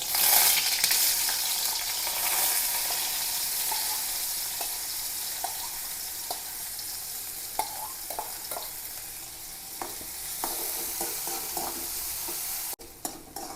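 Onions fry for tempering a green gram curry, making a steady, close hiss of sizzling oil broken by scattered clicks and scrapes of stirring.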